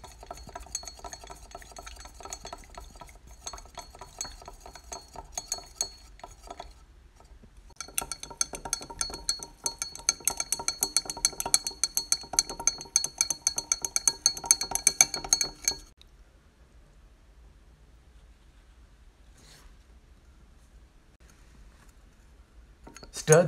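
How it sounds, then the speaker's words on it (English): A glass rod clinking and scraping inside a glass beaker as copper oxide powder is stirred into sulfuric acid, giving rapid, light, repeated taps in two bursts separated by short pauses, then near quiet. "add slowly copper oxide powder into the sulfuric acid and stir well to dissolve copper oxide in sulfuric acid."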